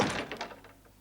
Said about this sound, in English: including basic door shutting